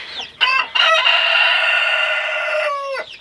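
A young rooster crows once nearby, a loud, drawn-out call with a few short rough notes at the start, clear with no talk over it.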